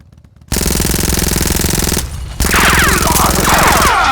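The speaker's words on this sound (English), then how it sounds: "Is that a gun?" Loud automatic gunfire from a GI Joe Classified short film set outside a restaurant, a dense continuous burst after a quiet start, dipping briefly and then resuming with sharp whistling ricochet-like streaks.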